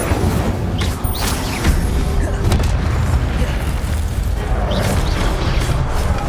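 An Incendio fire spell goes off in Hogwarts Legacy, a dense, loud rumbling boom and roaring blast that fills the whole stretch with swelling fiery bursts and no clear speech.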